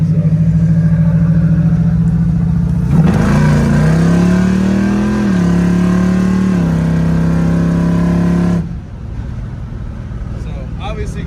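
Chevrolet Malibu with a Turbo 350 transmission accelerating on a highway, its engine building into a loud, steady drone that rises through gear changes before easing off at the end; a voice speaks over it.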